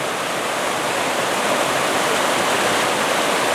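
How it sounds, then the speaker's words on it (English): Waterfall at Cataract Falls near Fairfax, California, water pouring down steadily in a dense, continuous broadband roar, loud and close with no voices heard. "So here's another waterfall. There's the bridge. And you can see the water coming down."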